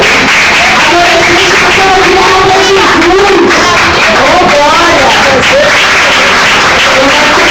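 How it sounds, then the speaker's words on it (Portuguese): A church congregation claps and cheers for Jesus during a service, loud and sustained clapping mixed with shouts and crowd voices throughout. "Posso aplaudir para Jesus?"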